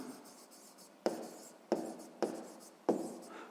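Pen or chalk on paper or board while writing out a sixth-grade math solution, with four sharp taps and strokes spaced about a second apart over faint room noise.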